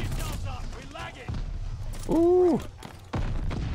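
Bursts of Global Actor SMG gunfire in Call of Duty Vanguard, rapid loud cracks and thuds in short clusters, mixed with a commentator's speech and a brief exclamation.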